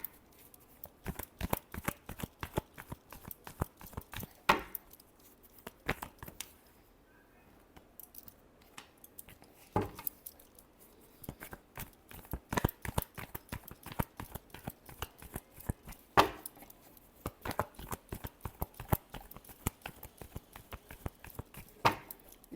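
Tarot cards being shuffled by hand, a long run of dense crisp riffling and flicking bursts with brief pauses between them, close and fairly quiet, with no voice.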